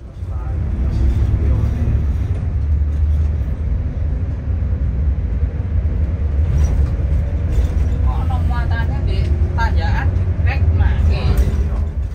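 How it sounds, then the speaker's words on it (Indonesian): A bus rides through congested road traffic crowded with heavy trucks, giving a loud, constant low engine and road rumble that continues throughout, with voices talking over it. "Makanya rame banget tuh truknya."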